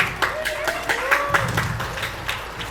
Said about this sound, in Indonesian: Ya, tepuk tangannya mana?